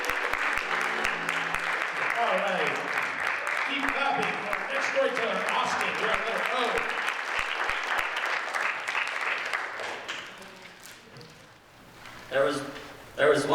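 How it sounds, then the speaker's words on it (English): Sustained audience applause for a storyteller at a spring folktales competition gradually fades out, and a voice speaks briefly near the end. "Keep clapping for our next storyteller, Austin."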